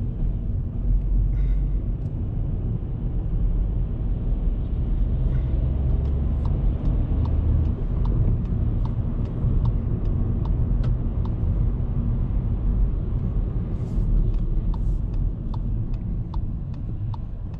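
Steady low engine and road rumble inside a 2019 Volkswagen Polo with a 1.0 TSI petrol engine while driving, with faint scattered ticks and no talking.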